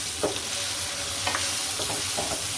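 Potato pieces frying in a pan on low to medium flame for aloo palak, a steady close sizzle with a few scraping stirs.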